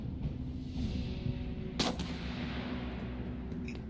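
A single sharp sniper rifle shot cracks out in the war survival game This War of Mine, a brief loud report standing out above a steady low rumble of ambient game sound.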